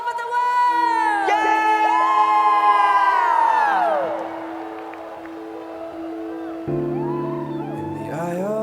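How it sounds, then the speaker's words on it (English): A stadium crowd cheers at the 8th ASEAN Para Games opening ceremony in 2015, broad roaring voices mixed with long, wavering horn- or siren-like tones that swell, dip midway and return. "let's hear a big cheer for our friends all over the world!"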